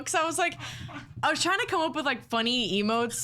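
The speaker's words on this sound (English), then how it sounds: "excuse my dogs in the background" Dogs play in the background with excited yips and whimpering barks, fairly close, mixed under a person talking almost continuously.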